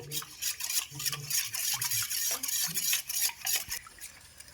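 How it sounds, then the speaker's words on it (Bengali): A utensil stirs a thin cornflour and water batter in a bowl for a vegetable chop recipe, giving a rapid series of scraping, clinking strokes against the bowl in an uneven rhythm, close and alone. "কর্নফ্লাওয়ারটা আমি এরকম পাতলা করে কিন্তু গুলিয়ে নিয়েছি।"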